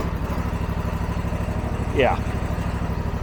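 A Husqvarna riding lawn mower's engine runs at a steady, rumbling idle close by, its pulsing drone unbroken, while someone speaks a brief word over it.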